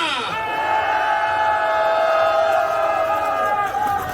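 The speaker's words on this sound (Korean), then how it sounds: "동의하시면 3초간 함성 시작!" A crowd of protesters at a candlelight impeachment rally on Seongan-gil in Cheongju shouts together in a loud, sustained roar lasting about four seconds, with raised voices blending into one steady wall of sound.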